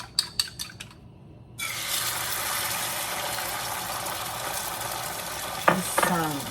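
A few clinks, then a sudden steady sizzle of beaten eggs hitting hot oil, continuing loudly with a couple of scraping stirs near the end.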